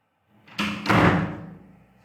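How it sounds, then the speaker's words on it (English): A door swings shut with a soft push followed by a heavy, close thud that rings out and fades over about a second, with no talk. "the sound of a door closing"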